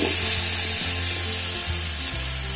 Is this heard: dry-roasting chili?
yes